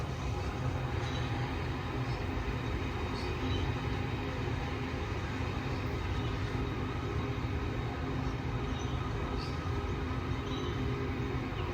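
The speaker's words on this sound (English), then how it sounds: "you can also hear the motor really start to get louder as the train goes faster" A steady rumbling Sydney Metro Bankstown Line train motor runs continuously, loud and even, with a low mechanical drone and faint higher whine throughout.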